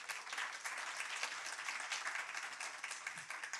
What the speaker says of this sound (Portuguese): receba nossos aplausos